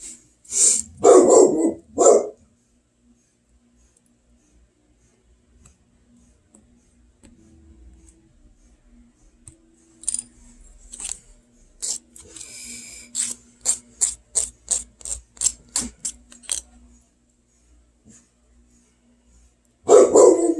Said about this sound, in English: I apologize for his barking constantly.